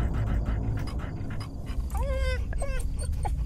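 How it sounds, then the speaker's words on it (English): A dog in the horror video game Fears to Fathom pants and gives short whimpering yelps close by, over a steady rumbling background. "Oh, it's a dog."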